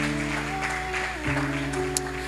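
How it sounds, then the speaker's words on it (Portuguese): A church congregation applauds during a sermon, a continuous wash of clapping over sustained organ or keyboard chords that continues for the whole stretch. "Dê uma salva de palmas a Ele."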